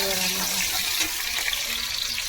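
A kitchen tap runs in a steady, even splash for a couple of seconds, close by and fairly loud with no break.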